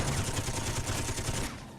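Ship-mounted guns in the Space Engineers video game fire in a rapid, continuous stream of loud, dense shots that stop abruptly near the end.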